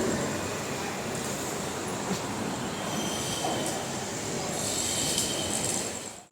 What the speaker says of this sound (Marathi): आतमध्ये ट्रेन चालू झालं